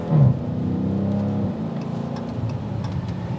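A 2020 Dodge Challenger Scat Pack Widebody launches from a stop at full throttle, its engine rising into a loud sustained roar that holds steady and fades slightly, heard close with no talking.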